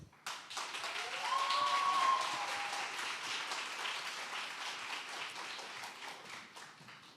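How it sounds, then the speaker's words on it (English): An audience at a democracy forum in a Grande Bretagne hall applauds steadily, a dense wash of clapping that swells early, then slowly thins and fades, with no talk over it. "So please join me in giving them a round of applause."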